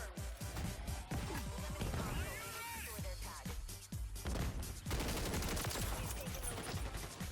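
Rapid shotgun blasts and other gunfire from a video game running on an RTX 2080 Ti graphics card, dense bursts of booming shots and crashes almost throughout, with some brief voice underneath.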